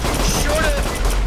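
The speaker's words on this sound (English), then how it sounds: "I'm shooting it." Rapid gunfire in a video game, a loud continuous burst of shots packed closely together and heard up close, mixed with a voice.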